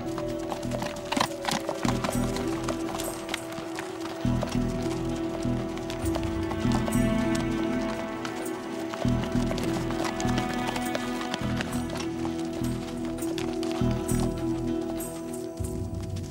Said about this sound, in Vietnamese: Sao con ngựa lại không đi nữa?